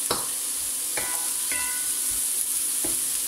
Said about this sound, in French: pendant que les oignons cuisent